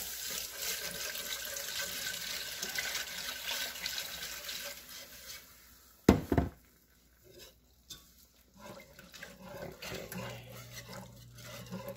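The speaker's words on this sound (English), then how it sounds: "I have the clam juice from when I strained the clams. So that goes in." Strained clam juice pours from a container into a chowder pot as a steady hissing, trickling stream, then a clunk of the pot and quieter clatter and stirring afterward.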